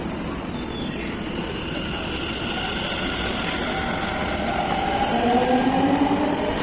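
A metro train at Sarojini Nagar station in Delhi, rumbling steadily with a rising squeal of wheels as it moves through the station, loud and close with no talk.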